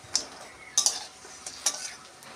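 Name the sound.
lentil fritters frying and being stirred in a pan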